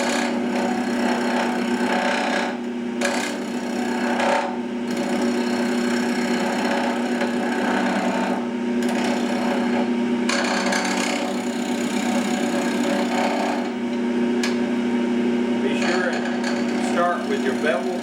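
A lathe gouge cuts a multi-axis wooden spoon with a continuous rough scraping hiss over the steady hum of the spinning lathe, broken by brief pauses, as a voice talks throughout.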